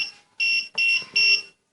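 A counterfeit note detector machine showing its E2 code beeps in four loud, high, clipped bursts in quick succession, each about a third of a second long, sounding alone.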